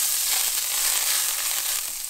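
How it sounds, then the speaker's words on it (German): Butter sizzles and crackles in a hot frying pan on the stove before pancake batter goes in, a steady, close, bright hiss with no voices. "ein bisschen Butter hier in die Pfanne"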